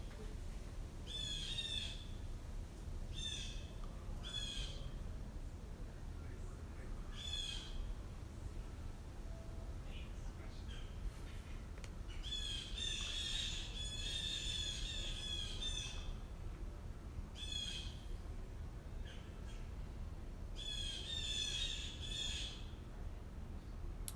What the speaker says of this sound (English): Those birds are losing it up there.